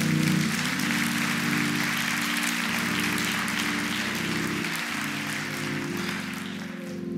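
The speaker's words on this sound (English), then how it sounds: "give the Lord a hand clap of praise" A church congregation claps in praise, a steady wash of hand claps over sustained organ or keyboard chords with a low bass pulse, continuing evenly throughout.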